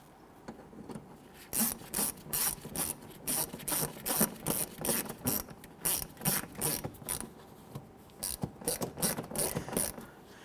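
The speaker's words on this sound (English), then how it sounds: "Let's get the lower screw installed." A ratchet tightens a 7mm lower screw on a front bumper bracket of a 2007-2014 Cadillac Escalade, sounding as close, quick bursts of metallic clicking in a steady back-and-forth rhythm.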